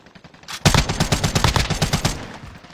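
Automatic gunfire in the video game Call of Duty Warzone: a rapid, loud burst of many closely spaced shots lasting about a second and a half, then a fading tail, with no talking.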